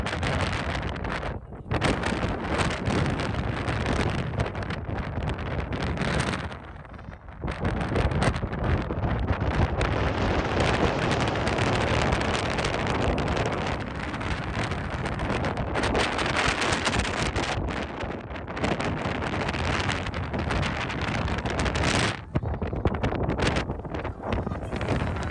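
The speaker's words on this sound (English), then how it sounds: "it was so insanely windy, even the birds can't fly" Loud, continuous wind in Edinburgh buffets the microphone, roaring and rumbling with brief lulls, no voices.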